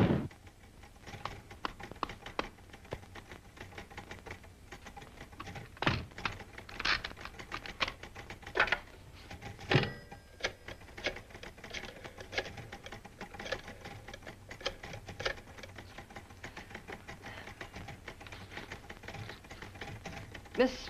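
Typewriter keys clatter in brisk, uneven bursts in a 1940 office, with sharp individual strikes and occasional louder clacks, faint and somewhat distant with a quiet background.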